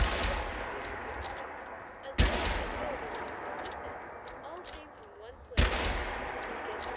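Gunfire in Fallout 4 VR, two sharp loud shots spaced a few seconds apart, each with a rolling echoing tail over quiet ambient background.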